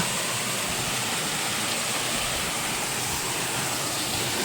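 Water falls at a mountain shrine in a steady, unbroken rushing roar that stays loud and constant throughout, with no voices over it.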